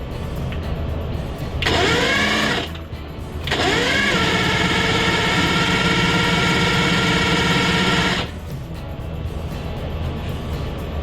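A big bore two-stroke engine is kicked over and fires in two loud, rasping bursts: a short catch first, then a longer run of several seconds before it cuts out, leaving a quieter background hum.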